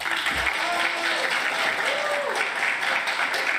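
A crowd at a gaming lab grand opening gives a guest a sustained round of applause, thick and even throughout, with a few faint cheers and voices mixed in.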